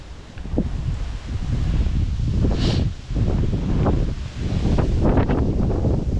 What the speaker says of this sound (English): Oh, it's windy again. It's windy!